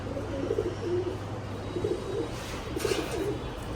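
Laldom and kaldom pigeons coo in repeated soft, rolling phrases at a moderate distance, over a steady low background hum with no talking.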